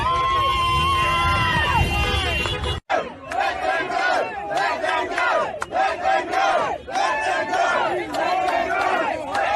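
A large protest crowd roars and cheers in one continuous, loud, close swell of many voices, with shouts rising and falling throughout and brief clapping.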